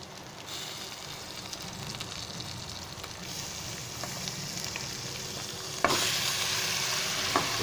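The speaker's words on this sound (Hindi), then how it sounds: "इसको अच्छे से मैं नाज़रीन से मिक्स करता हूँ और फ्राई कर लेता हूँ अच्छे से।" Mutton mince frying in a pan with garlic while being stirred and mixed, a steady close sizzle with scraping stir sounds that jumps louder near the end, with no talking.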